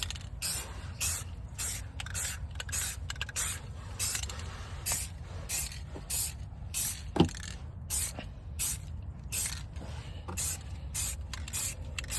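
Primer hisses from a spray can onto a Brembo brake caliper from a Chrysler 300, in a dozen or more short, rhythmic bursts close by, with a faint click partway through and no talking.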